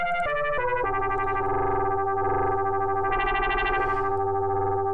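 Sound one on a Pocket Operator PO-16 Factory synthesizer is a bright, distorted, chorus-laden synth voice that steps through quick notes, then holds longer sustained chords, steady and loud with no voices.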